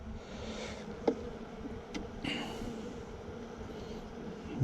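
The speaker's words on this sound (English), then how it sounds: "It's a bee under the frame, so we gotta let her move a little bit." Honey bees buzz faintly around a comb frame lifted from a nuc box holding a newly moved wild colony, a quiet steady hum broken by a few light clicks and taps.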